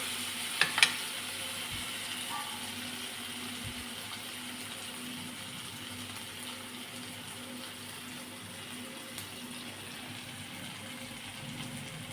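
Onions sautéing in a pan for a spicy potato dish make a soft, continuous sizzle throughout, with a couple of brief utensil clicks near the start.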